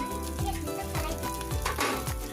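Small puti fish frying in a pan with salt, red chili powder and turmeric, a steady close sizzle with a few soft scraping stirs over a low background hum.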